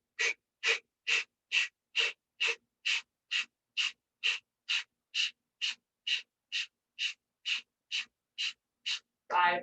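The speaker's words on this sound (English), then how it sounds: "So you exhale through your mouth as you pull your abdomen in." Sharp, forceful mouth exhalations in yoga breathing, about twenty evenly spaced breaths pushed out one after another in a steady rhythm with the abdomen pulled in, close and clear, ending with a longer, louder breath.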